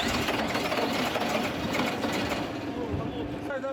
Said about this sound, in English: the vehicles are never switched off on the winter road, not even on longer breaks